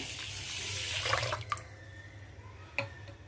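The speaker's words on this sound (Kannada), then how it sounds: "ಈಗ ಇದಕ್ಕೇನದ ನೀರು ಹಾಕೋಣ" Water splashes and trickles onto washed rice in a container for about a second and a half, then fades to quiet with a couple of faint drips.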